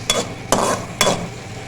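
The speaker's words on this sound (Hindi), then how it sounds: "अब इसमें डालेंगे हम ऑयल 1/2 कप और प्याज को हम गोल्डन करेंगे" Sliced onions frying in half a cup of oil, with three stirs scraping through the pan at an even pace over a soft, steady sizzle, close up, with no voices.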